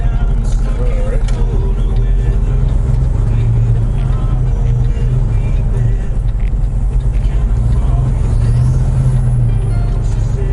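A truck's engine idles loud and close with a steady low rumble as the truck gets ready to roll after rain, continuous throughout with faint rattles and hiss over it.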